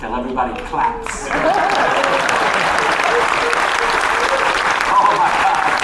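Aboard the Royal Caribbean cruise ship Jewel of the Seas on a sea day, a room of passengers breaks into full applause after a brief moment of voices. The clapping stays even and close for several seconds.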